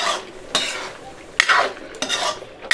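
A pan of potato, onion and paneer curry with a pinch of garam masala is stirred briskly, giving loud scraping sweeps in three or four bursts over a soft sizzle, with no talking.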